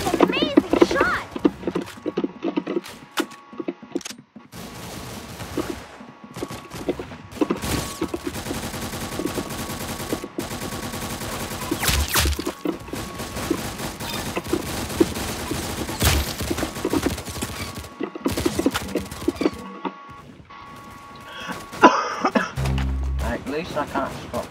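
Double-barrel shotgun blasts and other gunfire in a video game, scattered irregular bursts layered over game music and sound effects, with a player talking throughout.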